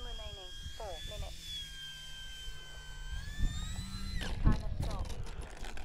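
Bigfoot RC airplane landing with throttle increased: a steady whining engine tone that rises in pitch near the end, heard at a distance over outdoor wind noise, with thuds and rustling as it touches down.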